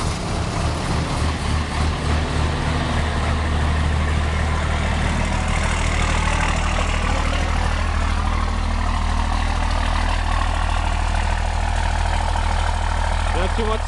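1993 bus diesel engine idling steadily after a cold start on a chilly day, a loud, constant low rumble throughout with someone talking over it.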